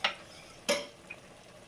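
A spoon stirs cornflour mixed with water in a bowl for cabbage Manchurian, giving two brief, light scraping clinks with quiet pauses between.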